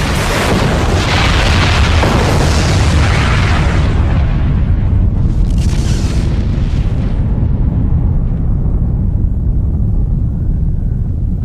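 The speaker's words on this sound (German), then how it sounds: "Alle drei Krater der Vulkaninsel brechen aus in einer massiven Salve von" Massive volcanic explosions from the three craters of Krakatau roar without pause, deep booming blasts layered with crackling bursts, loud and overwhelming, settling into a heavy rumble toward the end.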